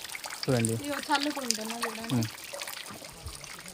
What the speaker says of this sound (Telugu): ఎక్కడి నుంచి వాటర్ పడుతున్నాయి చూడండి గుట్ట పై నుంచి